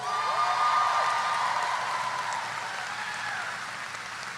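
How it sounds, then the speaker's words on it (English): Graduates applauding at a university commencement ceremony, a broad steady wash of clapping from a large crowd heard at a distance, sustained and gradually easing. "Give yourselves a big round of applause."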